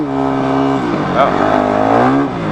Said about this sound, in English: Just roasted the back tire, I guess. I was trying to do a wheelie, but it actually spun right out.